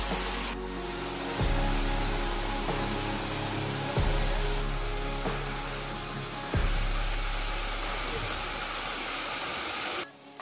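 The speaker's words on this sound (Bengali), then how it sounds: "শান্ত নীরব পরিবেশ, শুধু ঝর্ণার শব্দ।" A waterfall on the Komoldoho Ruposhi trail pours with a dense, close, constant rushing roar, broken by a few abrupt cuts where the level jumps.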